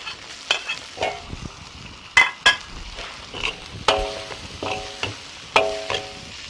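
Minced garlic frying in doubanjiang chili bean oil with Sichuan peppercorns, a steady close sizzle broken by about ten sharp clacks of a metal spatula against the wok.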